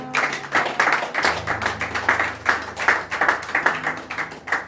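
Church congregation clapping in praise of Jesus during a French-language service, a steady rhythmic burst of hand claps, close and lively, with a low musical drone underneath.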